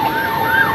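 Fire truck sirens respond to a large fire in Taytay, Rizal, a loud wailing tone sweeping up and down over street noise in a brief burst.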